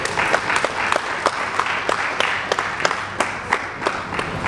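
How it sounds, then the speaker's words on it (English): Audience applause at the Mbaise Policy Roundtable annual global summit, steady crowd clapping with sharper individual claps standing out, loud and sustained throughout. "Can we clap for him?"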